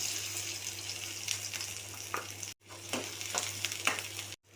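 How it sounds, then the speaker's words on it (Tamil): Onions hiss and sizzle in hot oil in a pan, a quiet steady crackling frying sound with a few soft stirring scrapes and a brief dropout partway through. "எண்ணெய் காஞ்சிருச்சு. இதோட வெங்காயத்தை சேர்த்துக்கலாம்."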